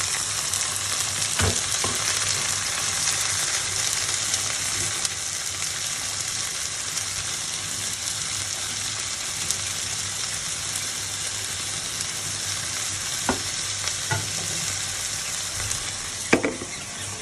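Beans, potato, cucumber, carrot and Bombai chili fry in a pan with a loud, continuous close sizzle, broken by a few sharp utensil knocks and scrapes, with no voices.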